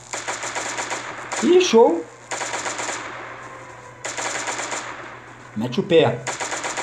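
Automatic gunfire from a weapon in the survival video game Last Day on Earth, raised in rapid mechanical bursts several times, with a voice talking and shouting between and over the shots.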